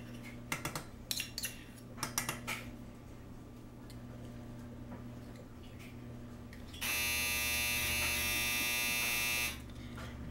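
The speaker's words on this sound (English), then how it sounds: "That is my dryer" A home clothes dryer gives a loud, harsh buzz lasting about three seconds before stopping abruptly, over a steady low background hum, with a few scattered clicks and clatters beforehand.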